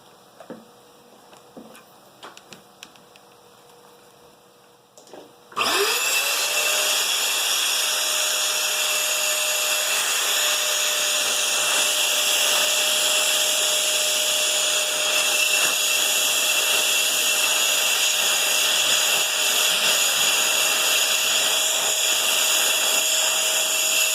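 A homemade impeller air blower switches on after a few faint clicks and then runs with a loud, steady whirring roar and a sustained whine that stays constant to the end.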